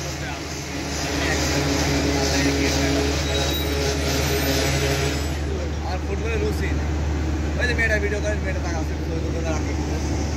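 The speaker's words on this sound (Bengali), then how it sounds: "বিশাল ট্রেন" The Rupsha Express, Bangladesh's longest-route passenger train, rumbles past close by with a steady, loud mix of wheel and carriage noise and brief squeals, continuous for the whole stretch.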